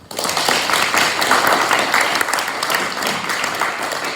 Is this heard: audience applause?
yes